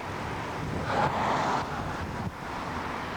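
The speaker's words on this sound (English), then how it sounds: "Just a little bit windy here today" Wind rumbles and buffets outdoors on a Florida beach at Sanibel and Captiva in gusts, a steady low roar that swells briefly, with no voices.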